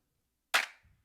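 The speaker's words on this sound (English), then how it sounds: "So the first clap sounds like this." Single drum clap sample in Ableton, one crisp bright clap with a short noisy decay tail, heard alone against silence.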